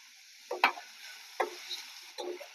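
Chopped onions frying in a pan for a masala gunta ponganalu filling, heard as three short spatula scrapes and stirs over a faint, quiet hiss of hot oil.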